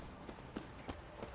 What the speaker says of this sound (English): Let's get on my horse.